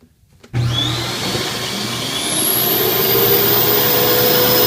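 A central vacuum system starts through a wall inlet hose, jumping abruptly from near silence to a loud, steady rushing whine that holds, with a high tone rising slightly as it runs.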